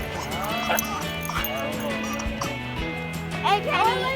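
Several dogs yip and bark at a dog park, short excited barks scattered through steady human chatter, with a couple of louder yelps near the end.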